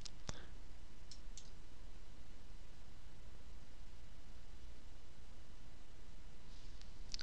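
A computer mouse gives a few sharp, faint clicks, one near the start and a couple more later, over a steady background hiss in a quiet room.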